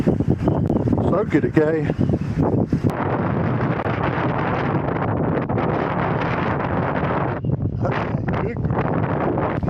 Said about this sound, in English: Wind is really, really blowing.